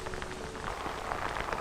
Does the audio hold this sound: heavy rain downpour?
yes